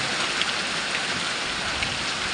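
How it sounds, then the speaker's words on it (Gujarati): Heavy rain pours down steadily at night, a dense, continuous hiss of drops drumming on surfaces close by with no talking. No distinct thunder stands out. "વરસાદ ભારે ચાલુ થઈ ગયો"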